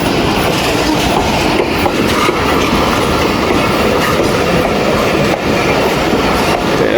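Tezgam Express passenger train rolling through Khanewal Junction, a loud, steady roar of wheels and coaches close by with continuous clickety-clack rhythm and occasional faint wheel squeal throughout.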